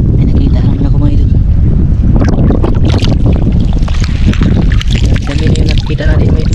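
Strong wind buffets the microphone on a seashore while shells are gathered, a loud continuous rumble with gusty surges and some bursts of sound mixed in.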